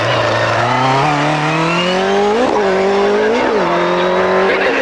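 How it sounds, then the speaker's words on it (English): A racing car spins out at a motorsport event and slides into a gravel trap, its engine note rising and falling loudly and continuously while the tyres squeal sharply through the spin. "And a big spin there for Stuart Ridge."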